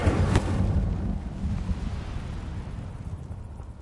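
A fire spell cast in a Hogwarts video game opens with a sharp burst, followed by a roaring, rushing whoosh of flame that slowly fades over several seconds.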